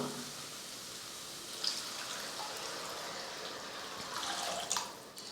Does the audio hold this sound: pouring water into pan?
yes